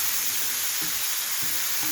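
Alexandrian-style beef liver frying in a pan, a steady loud sizzle with a few scraping stirs of a utensil, close up and with no talking.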